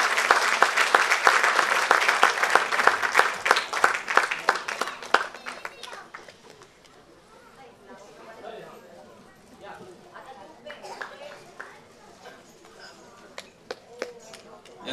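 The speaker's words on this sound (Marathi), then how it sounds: "जोरदार टाळ्या होऊन जाते त्यांच्यासाठी." Loud audience applause at a school cultural performance fills the first five seconds, then fades into scattered claps and crowd murmur with a few isolated hand claps continuing.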